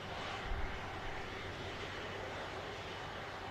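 A Hainan Airlines airliner departs Manchester on its long return flight to Beijing, its engines a steady, distant broadband roar that holds evenly throughout with no talking.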